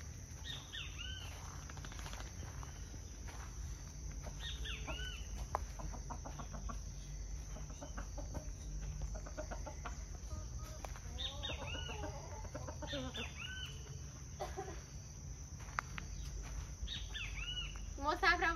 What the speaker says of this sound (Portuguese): eu vim mostrar pra vocês as galinhas que estão aqui no nosso terreno